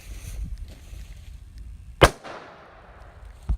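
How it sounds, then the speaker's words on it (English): Wise Guy firecracker, the largest consumer firecracker, going off in one sharp loud bang that trails into a short echoing decay. "This is a Wise Guy cracker. This is basically the largest firecracker that you can buy."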